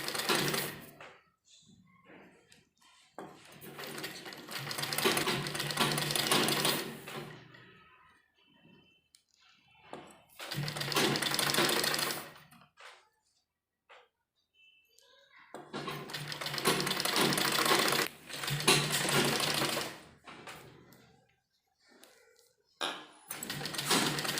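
A sewing machine stitches a frill onto a baby umbrella frock in several bursts of running, a few seconds each, separated by pauses with small clicks and handling noises.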